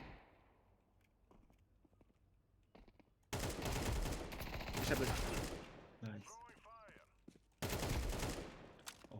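Bursts of gunfire in Counter-Strike 2, loud rapid volleys of shots in several sharp blasts, with players talking over the game.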